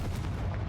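A Confringo blasting spell goes off in Hogwarts Legacy, a dense low rumbling blast that holds steady and loud for its whole short span with no clear start or fade.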